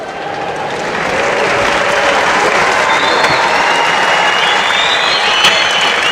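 Sustained applause from a judo world championship arena crowd, swelling in the first second and then holding steady and loud, with scattered cheers and voices blended in the wash.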